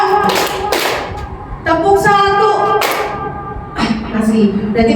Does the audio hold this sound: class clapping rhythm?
yes